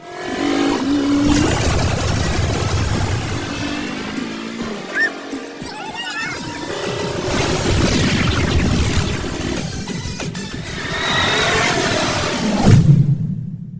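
A racing car engine revs and accelerates hard in repeated loud surges, with deep booming rumbles, mixed with a busy soundtrack throughout.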